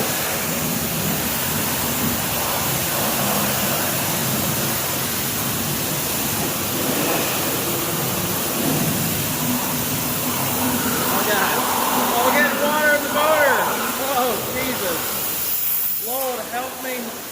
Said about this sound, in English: All right, let's pressure wash.